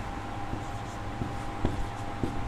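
Pen writing a maths answer by hand in a Class 6 lesson, soft scratchy strokes in short bursts over a steady background hum, fairly close.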